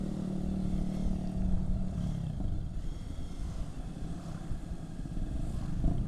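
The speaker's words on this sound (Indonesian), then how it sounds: "Ini knalpotnya ribut banget nih" Loud motorcycle exhaust rumbling close by, a continuous low throaty roar with uneven pulsing that stays strong throughout.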